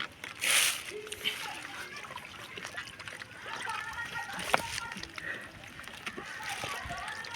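A banana-stem raft moves through deep floodwater, with a sharp splash near the start followed by soft sloshing and trickling as it is pushed along, and people talking nearby.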